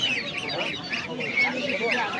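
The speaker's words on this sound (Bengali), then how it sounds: "রাজহাঁসের বাচ্চা এগুলা" Goslings and ducklings for sale at a rural Bangladeshi village market give off a steady stream of busy chirps and quacking calls close by, mixed with market chatter.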